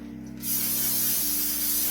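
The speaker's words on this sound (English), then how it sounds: "we're going to just spray it down with some of our Pam cooking spray" Pam cooking spray blasting onto a skull-shaped pan: a sudden loud, continuous hiss that starts abruptly and holds steady to the end, close to the microphone.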